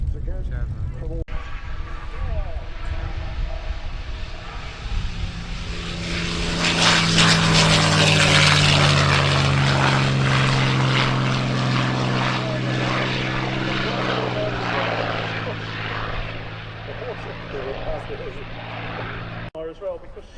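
A Merlin-engined Mark 9 Spitfire, converted from a Mark 5, flies past at an airshow, its propeller engine drone swelling loud as it nears and fading away, with an announcer talking over it.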